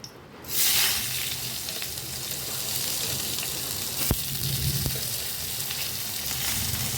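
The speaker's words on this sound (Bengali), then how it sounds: "আমাদের এখানে খুব বৃষ্টি হচ্ছে, ওই জন্য খুব আওয়াজটা হচ্ছে" Heavy rain pours down outside a home kitchen as a steady, dense broadband hiss, with a couple of sharp clicks partway through and no voices.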